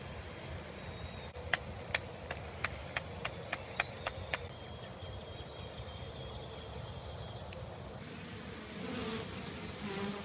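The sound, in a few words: honey bees from a bee package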